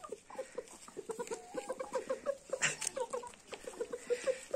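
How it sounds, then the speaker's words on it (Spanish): Hens cluck in quick, irregular bursts close by, with a louder squawk midway, over a quiet background, in a rural yard in Los Anguijes, Spain. "Aquí, con sus gallinas, con Antonio Alfaro en Los Anguijes."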